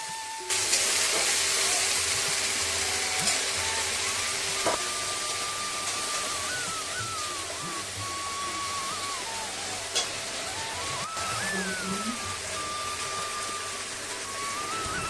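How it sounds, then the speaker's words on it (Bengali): Spice paste (masala) for a Bengali lentil-dumpling curry fries steadily in a pan, giving a continuous dense sizzle and crackle with faint scraping of a spoon, with no talking. "মশলাটা কষিয়ে নিচ্ছি।"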